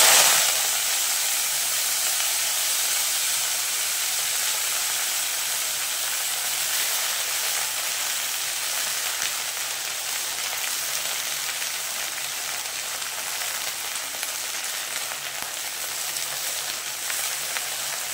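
Washed fenugreek greens hit hot oil and give a steady, loud sizzling hiss that holds throughout without talk.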